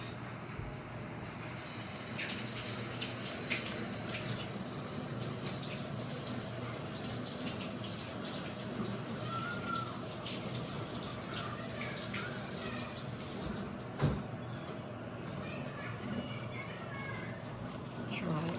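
Water runs steadily from a kitchen tap while vegetables are rinsed for a Hủ Tiếu Nam Vang noodle dish, a continuous close splashing hiss with a brief knock partway through, and a person talks over it.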